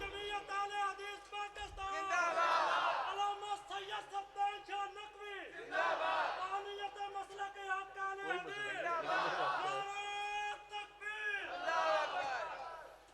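A crowd at a religious gathering with a bayan chants slogans in loud, repeated swells of many voices every few seconds, with quieter gaps between each burst.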